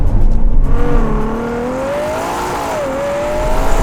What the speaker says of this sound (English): it sounds better on the outside because this car is just too well insulated